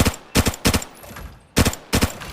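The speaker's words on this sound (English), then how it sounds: "I'm going to shoot right over there using the tier 4 armor" M16 rifle fire at a shooting range in the game Arena Breakout: four sharp bursts of two or three quick, loud shots each, separated by brief pauses.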